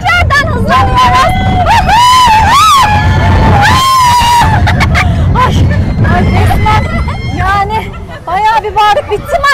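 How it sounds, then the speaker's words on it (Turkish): Riders scream loudly and continuously on a fast amusement park ride at night, high shrieks rising and falling over a roaring crowd and ride noise, with people talking between the screams. "Bağırıp bitti mi acaba?"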